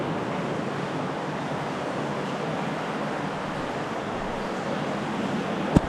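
Water rushes continuously through a small cave as a steady broadband wash, fairly close and unbroken, with a brief tap at the very end.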